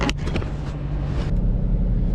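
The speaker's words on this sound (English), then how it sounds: "The Hemi, man, it is hard to beat a Hemi sound" Dodge Challenger RT Scat Pack 392 Hemi V8 from 2021, a deep, loud engine rumble that swells and settles while driving, alone without talk.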